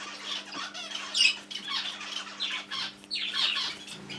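A hen squawks and clucks in agitated bursts throughout, loud and close, with a faint steady hum underneath.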